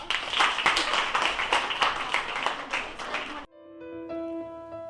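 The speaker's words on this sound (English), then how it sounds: "Class, let's give her a round of applause." A classroom of students applauds a classmate with lively, dense clapping for several seconds. It cuts off abruptly, and a short, clear musical chime follows.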